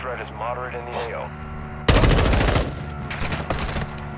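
Burst of automatic gunfire from an M4 rifle in Call of Duty DMZ, loud and rapid, starting after a stretch of talk and continuing in clustered volleys for a couple of seconds over game ambience.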